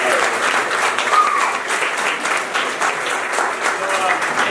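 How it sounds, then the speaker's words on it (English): Audience round of applause at a drop-shipping business talk, steady dense clapping from a room crowd, loud and sustained for several seconds. "One more time, round of applause for Bernard and Andy."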